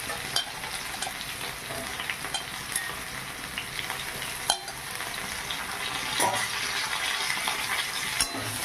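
Sliced drumstick (moringa) pieces fry and get stirred in a pan for a vegetarian dish, giving a steady broadband sizzle with occasional scraping clinks of the spatula. The sound is close and continuous, and nobody speaks.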